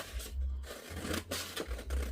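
Scissors snip by hand through a vinyl design, a few close, crisp cuts and paper-like rustles in quick succession.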